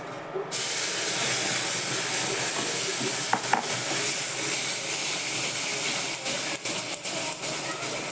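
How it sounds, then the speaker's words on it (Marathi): Mango juice poured into semolina and coconut filling roasting in a hot pan for mango modak, giving a steady close sizzle and hiss with stirring scrapes that carry on without a break. "रवा चांगला लाल होऊ द्या तो रस टाकते मी त्यात"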